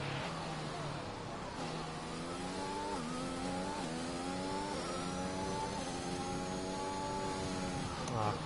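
Race car engine in the F1 2021 video game at the European Grand Prix, a steady loud high whine with rising and falling pitch as gears shift, running continuously with voice talk over it.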